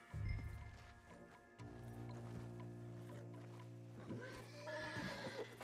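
A horse in Red Dead Redemption 2 whinnies loudly up close at the start, then a long low sustained game tone carries on beneath with faint hoof and movement sounds, with brief calls near the end.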